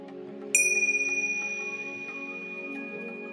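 A single meditation chime strikes once near the start, a bright clear ring that hangs and slowly fades over a soft, steady tonal background.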